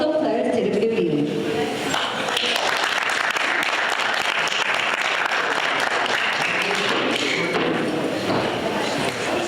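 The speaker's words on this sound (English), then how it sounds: "please welcome Mr. Liu with a big round of applause to the podium" A conference audience at a startup and research cooperation event gives a loud, dense round of applause that holds steady throughout as a speaker is welcomed to the podium, with some voices mixed into the clapping.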